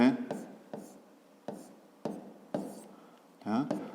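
Pen or chalk strokes write short letter labels by hand during a fifth-grade geometry exercise, about six separate scratchy bursts in a slow rhythm, close up, with a voice talking between them.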